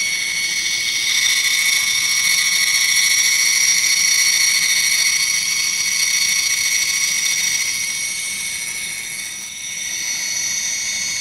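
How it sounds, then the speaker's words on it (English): Amalgatome MD skin recovery device motor running steadily with a high-pitched whine and bright tonal hum, loud and continuous throughout, dipping slightly in level near the end. "When too much pressure is applied, the sound of the motor will change to a higher pitch and it will sound like it is overworking."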